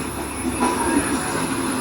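An Indian Railways passenger train rolls on its rails around a curve near Mannanur station, a continuous close rumble with faint wheel squeal and soft rattling, no voices.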